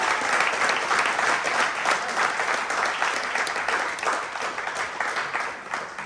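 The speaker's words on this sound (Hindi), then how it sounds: "जोरदार ताली" Loud, sustained audience applause at a Hindi comedy theatre performance, a dense wash of many hands clapping steadily from start to finish.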